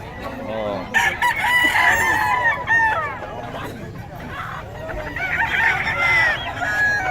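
Roosters crow again and again among clucking fowl, with one long crow near the start and another toward the end, while people chat in the background at a Filipino chicken sale, including a spangle gamecock.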